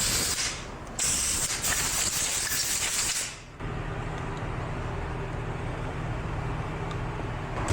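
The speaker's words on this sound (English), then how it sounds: "Blast them out with some air." Compressed air blasting out the brake caliper pin bores of a 2014 Nissan Xterra, a loud close hiss in two bursts with a brief gap, then dropping to a softer lingering hiss and faint shop noise.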